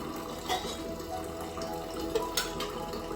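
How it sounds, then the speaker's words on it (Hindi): Stored filtered water poured out into a small vessel, a steady close trickle and splash of liquid with a few brighter drips, no talk. "इसे भी हम एक बर्तन में खाली करें।"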